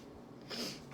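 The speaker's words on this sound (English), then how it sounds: "Let me blow my nose." A single quick, soft nose blow, a short snorting burst of air up close in an otherwise quiet room.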